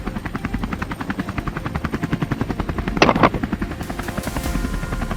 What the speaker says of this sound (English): The helicopter stays hot on the trail, engine and wind roaring like a predator.